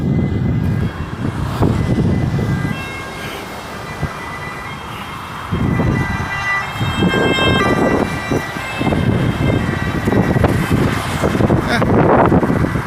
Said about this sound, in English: More ambulances.